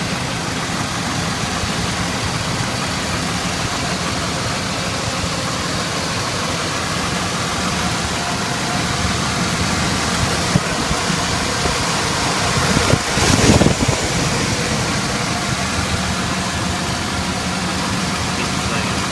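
A Chevy 4.3 engine, running a little rich and out of a vehicle, idles with a steady, close rumble; someone speaks over it.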